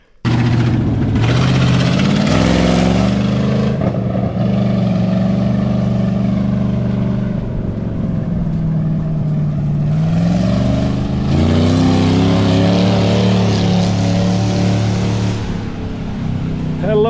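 A 1968 Ford F250 pickup with a 360 FE engine drives in low gear, its old V8 rumbling loud and close and rising and falling in pitch with each throttle push, with no talk over it.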